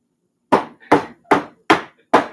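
A loaf pan filled with lemon poppyseed batter is knocked lightly on a kitchen counter five times, each a sharp, close thud with a quick decay, spaced at an even rhythm with no talking.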